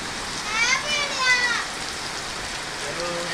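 Steady rain falls in Bainda, a continuous wash of drops close by, with children's voices and chatter rising over it in the first half.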